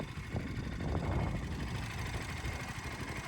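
A modified KTM Duke 200 BS6 motorcycle engine idles with a continuous, steady low rumble and a mechanical hum, even and unbroken throughout.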